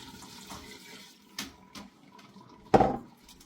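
Potato water from a mash being poured into a pressure cooker while cooking beef in red wine gravy, a soft watery trickle with a louder splashy burst near the end.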